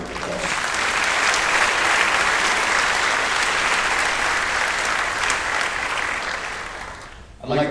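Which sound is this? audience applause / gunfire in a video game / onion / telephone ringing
audience applause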